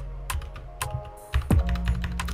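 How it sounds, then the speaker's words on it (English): Typing on a computer keyboard, close and crisp, with bursts of quick keystrokes broken by short pauses and a heavier key press near the middle. "I suck at typing, guys"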